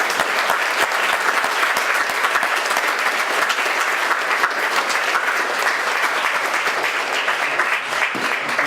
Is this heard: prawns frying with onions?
no